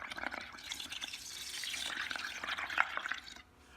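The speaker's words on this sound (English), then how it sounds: "I'll take my straw. I'm just going to blow on it a little bit." Dishwashing liquid in a bowl being blown through a straw, a steady bubbling, gurgling wash of liquid that rises slightly in intensity before tailing off near the end, with no voices.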